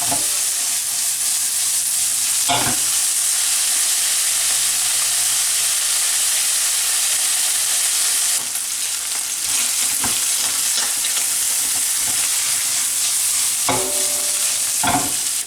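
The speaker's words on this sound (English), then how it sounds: "I'm gonna cook this bacon till it get brown." Diced bacon frying in a pan for a creamy carbonara, a steady close sizzle and hiss running throughout with a few sharp scrapes and stirs of the pan, no voices.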